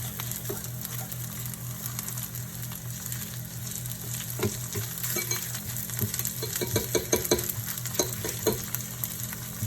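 Chow mein noodles stir-frying in oil sizzle steadily throughout, with a rising run of sharp scraping and clinking strokes from a spatula against the pan in the second half.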